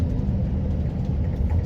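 Steady low road rumble of a car on unfamiliar roads, engine and tyre noise droning evenly and close throughout with no voices.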